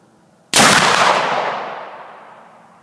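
A single loud, close muzzleloader rifle shot firing a Hornady Great Plains bullet over a Pyrodex powder charge, an abrupt blast after a brief hush that rolls off into a long fading echo.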